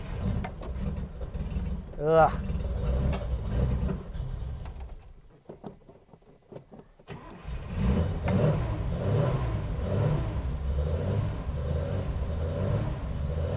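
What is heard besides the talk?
home-built Datsun 240z engine starting and revving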